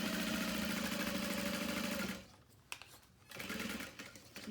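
A sewing machine back stitches and pivots while sewing around a bag pocket of waterproof canvas, running steadily for about two seconds before stopping, then a few faint clicks and a quieter hum as it restarts.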